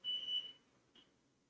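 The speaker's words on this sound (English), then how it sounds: "one of my roommate's fire alarm is randomly going off for no reason" A roommate's fire alarm gives one loud, shrill electronic beep, followed about half a second later by a fainter, shorter chirp in a quiet room.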